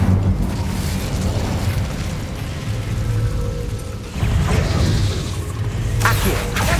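An Incendio fire spell effect from a spell-casting game produces rumbling, roaring bursts with low booms and crackling, swelling again after a brief dip.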